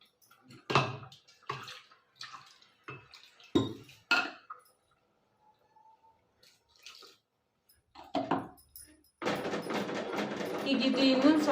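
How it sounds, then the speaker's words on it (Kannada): A few sharp kitchen clanks and taps, then a steady stream of water pours into a pot of Malabar spinach and lentil masala sambar up close, rushing continuously for the last couple of seconds. "ಈಗ ಒಂಚೂರು ನೀರು ತೊಳೆದು ಹಾಕ್ತಾ ಇದ್ದೀನಿ"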